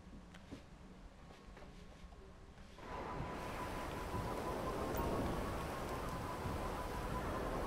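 Rain in the video game GTA 5 Online starts partway through as a sudden steady hiss that swells and then holds, replacing the quieter game ambience.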